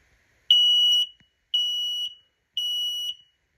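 Three loud, evenly spaced electronic beeps from a smoke alarm under test in a home, each tone about half a second long with short silent gaps between, sounding alone and close.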